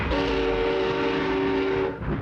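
A train runs steadily with a long, sustained horn blast sounding throughout, loud and close over continuous rumbling rail noise; a Korean locomotive setting.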